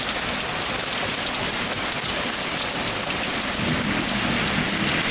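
Heavy rain pours steadily during a severe thunderstorm in Pittsfield, Massachusetts, a dense, loud, constant hiss of drops on surfaces with no break across the few seconds.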